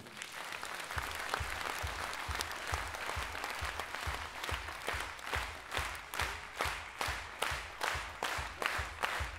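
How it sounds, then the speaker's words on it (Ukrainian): Audience at a charity concert applauding, dense steady clapping that grows into more distinct rhythmic claps toward the end, sustained and fairly close with no talk. "Тому давайте наші оплески для неї."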